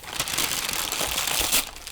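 Wrapping paper and tape crinkling and tearing while a gift-wrapped guitar is being wrapped, a loud close rustle lasting under two seconds with a sharper rip near the end.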